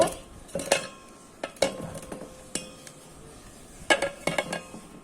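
Boiled potatoes for pani puri being mashed in a vessel: a series of irregular metallic clinks and knocks of a utensil against the pot, some close and sharp, with quiet gaps between strokes.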